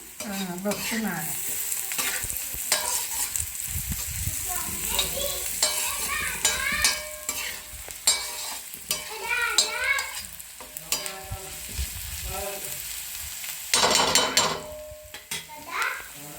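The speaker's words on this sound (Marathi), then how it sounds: "कांदा कढीपत्ता भाजायला टाकला।" Onion, curry leaves and cumin fry and sizzle in a pan for a village-style cluster bean dish, with a steady crackle and repeated scraping stirs throughout, a louder burst near the end.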